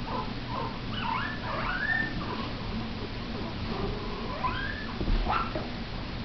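A Shih Tzu–bichon mix puppy, newly out of the whelping box, whimpers in a string of thin, rising whines and squeaks over a low background hum, close and fairly soft, with brief pauses between cries.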